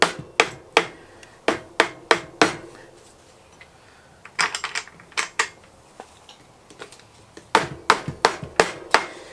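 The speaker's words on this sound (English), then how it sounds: "we're gonna mallet it" A mallet pounds a stuck part off a Mongoose Switchback Comp bicycle in loud, close strikes, hit in quick bursts of five or six blows with short pauses between, no voices.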